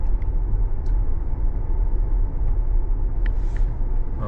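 A car drives through a residential neighborhood with a steady, low road rumble and engine hum throughout, and no one talks.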